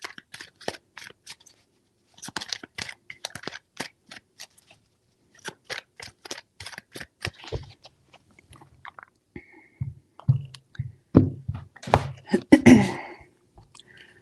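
Tarot cards are shuffled in quick crisp bursts of riffling and slapping, separated by short pauses. The shuffling grows denser and louder toward the end, with no voice over it.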